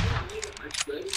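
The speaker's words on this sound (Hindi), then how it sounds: "मेरे चारों तरफ से गोलियां मार रहे बंदे" Rapid bursts of gunfire in PUBG Mobile crackle in quick succession, close and loud, with a voice talking over the shots.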